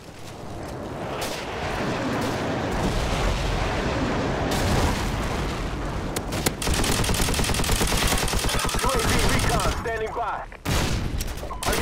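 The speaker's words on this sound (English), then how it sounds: "Friendly airstrike on the way!" Call of Duty 4 multiplayer combat roars with dense machine-gun fire and heavy booming airstrike explosions, loud and continuous, with radio-style voices calling out over the barrage.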